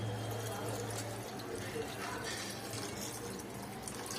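Water pours and splashes steadily into a pot of Kathiyawadi khichdi, a continuous liquid rush with a low hum in the background.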